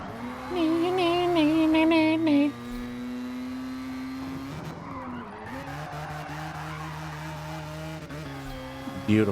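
A race car skids through a slide, its engine droning at a steady pitch with a long tire squeal that bends and shifts midway, loud and sustained, with a voice speaking over it.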